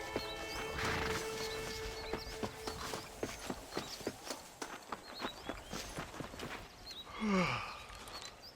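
Horse in the Western video game Red Dead Redemption, steady clip-clop of hooves on the ground with a whinny near the start and a snort or neigh near the end, moderately close.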